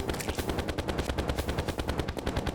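Hyperius bullets in the Terraria Calamity mod fire as rapid, evenly spaced machine-gun-like shots in a steady, loud stream.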